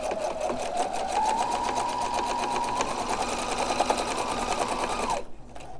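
Sewing machine stitching fabric for a face mask, a steady close whirring run of rapid needle strokes for about five seconds before stopping abruptly.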